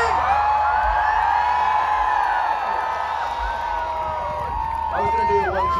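A huge live concert crowd of about 8,000 at Letňany Airport in Prague screams and cheers loudly and steadily, a dense roar with whoops rising above it and a steady low beat underneath.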